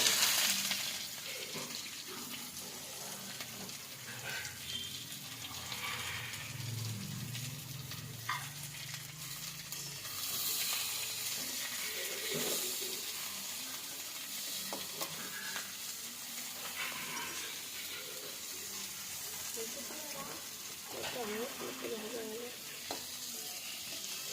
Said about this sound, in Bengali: রসুনটা একটু ভাজা হয়ে যাক, তারপরে এই যে পেঁয়াজ কুচি আর কাঁচা লঙ্কা কুচি দিয়ে দিলাম।